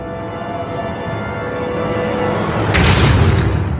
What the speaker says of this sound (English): I have an explosion.